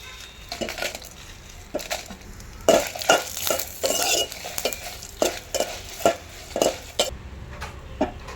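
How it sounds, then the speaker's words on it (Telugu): Green chillies fry in a pan for mint chutney, a soft sizzle running underneath while a spoon scrapes and clinks against the metal in a regular stirring rhythm, close and clear with no talk. "అదే గిన్నెలో అండి మిరగాయలు వేసి వేసుకుందాం."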